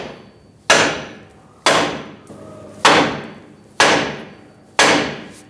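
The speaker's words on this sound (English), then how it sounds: "Use a large hammer and hit the knuckle." Five heavy metallic blows of a large hammer striking a steering knuckle on a 2011-2018 Ram 2500 ring out at a steady, unhurried pace, each loud strike decaying briefly before the next.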